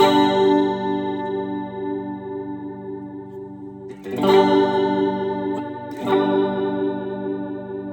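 An electric guitar chord rings out through an iSet flanger pedal with a wavering, fluttering sweep, then is strummed again twice, each chord sustaining and slowly fading with no talking.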